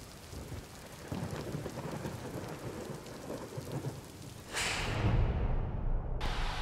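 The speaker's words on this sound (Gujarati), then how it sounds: "અમદાવાદ શહેરમાં વહેલી સવારથી વરસાદ વરસી રહ્યો છે" Heavy monsoon rain pours steadily over Ahmedabad, Gujarat, with thunder rumbling through it; the downpour swells louder for the last couple of seconds.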